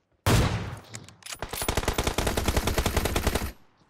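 Gunfire aimed at the player in a video game: a sharp opening shot, then a long, rapid burst of automatic fire with evenly spaced loud cracks, close and alone, ending abruptly.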